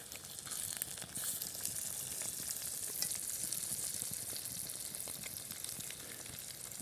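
Scrambled eggs fry in a pan on a camp stove in a forest and are stirred, a faint, steady, close sizzle with soft scraping, no talk.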